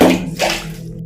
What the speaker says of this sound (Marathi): विहिरीच्या आतून पाणी हळण्याचा आवाज आला.